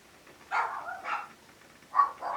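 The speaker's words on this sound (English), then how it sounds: "y'all can hear that the dogs are having a wonderful, wonderful time" Dogs barking in short bursts, a few yips a moment apart, fairly close with quiet gaps between them.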